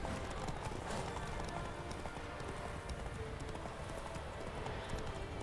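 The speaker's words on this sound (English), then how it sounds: "Look at all these wild ass horses." Hooves clatter in a rapid, continuous drumming as wild horses gallop at a distance in The Witcher 3, over a windy outdoor background.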